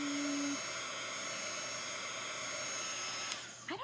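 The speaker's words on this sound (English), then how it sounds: "This is just my little heat gun." A small heat gun drying chalk paste blows with a steady, close, whirring hiss that holds throughout, and a brief tonal whine sounds near the start.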